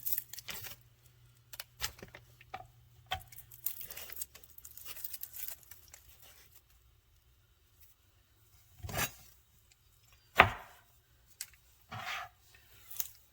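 Garlic cloves pressed flat under a broad knife blade to loosen their peels on a kitchen board, with a few sharp, crunchy snaps and soft crinkling taps spaced apart amid quiet handling noise.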